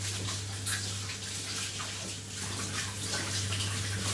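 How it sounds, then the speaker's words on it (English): Tap water runs and splashes steadily over hands being washed after rubbing butter into flour for pastry, a close, hissing wash with a low mains-like hum underneath and no talk. "quick wash of the hands"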